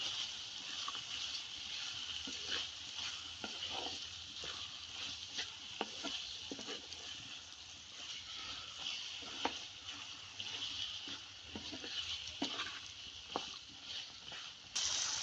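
Green peas frying in masala in a pan for baingan bharta, a steady sizzle with scattered scraping clicks of stirring throughout, close and continuous with no talking.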